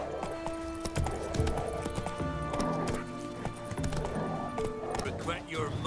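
Galloping hoofbeats of the horse Roach in The Witcher 3 video game, a rapid clip-clop rhythm with a whinny, mixed with game music and effects under a man's brief speech.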